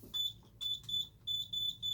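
A Simplex 3001 alarm system panel beeps while being armed, a close, repeating high-pitched electronic tone in short pulses with brief gaps.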